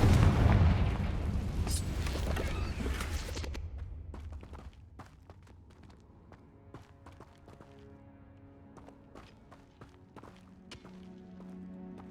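A Confringo fire spell in Hogwarts Legacy goes off in a loud booming blast at the start. The rumble decays over a few seconds, then scattered small clicks and footsteps follow at a much lower level.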